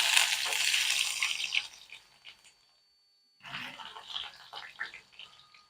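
Chopped onion frying in mustard oil with whole cumin seeds: a loud, close sizzle that fades into a brief silence, then returns with intermittent scraping and stirring.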